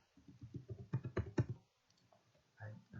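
Keyboard keys being typed to enter an admin username and password, a quick burst of close clicking taps followed by a pause and a few more faint presses.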